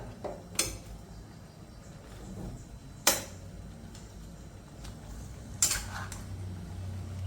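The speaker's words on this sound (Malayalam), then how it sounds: "ചേർത്ത് നന്നായി ഇളക്കി കൊടുക്കുക" Sparse spoon clinks and scrapes against a pot as jackfruit erissery curry is stirred after salt goes in, three sharper knocks spaced a few seconds apart over a low steady background.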